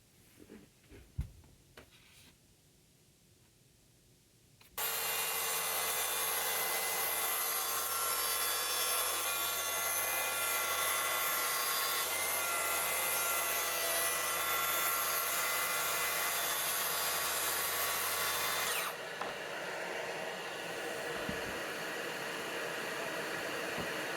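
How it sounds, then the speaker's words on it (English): A track saw rips through a shiplap wood panel for a ceiling install, a loud, steady whining cut lasting about fourteen seconds, preceded by a few handling knocks and followed by the motor spinning down. "I'm going to cut the bulk of it with the track saw."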